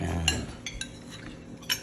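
Cutlery clinks against a plate during a meal, a few sharp separate taps over a low background hum, near and moderately loud with no talk.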